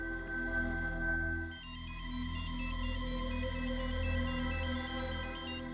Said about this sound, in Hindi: फोन आ रहल बा, बात कर लेता नहीं।